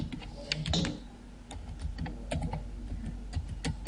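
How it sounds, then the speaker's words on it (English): Computer keyboard typing an email address, a run of quick irregular key clicks and taps, close and moderately loud over a quiet room background, with no talking. "So I'm just typing that email ID."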